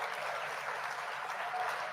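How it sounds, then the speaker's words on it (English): A round of applause for a flatbed truck driver being congratulated on two years with no service failures, steady broadband clapping filling the clip at moderate level. "round of applause for you"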